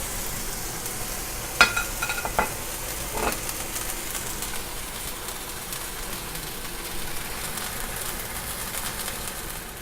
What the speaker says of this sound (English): Steak going in. There you go. You want that sizzle.